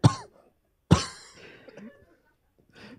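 A man coughs twice, sharp and close, about a second apart, each burst trailing off into faint breathing and rustling.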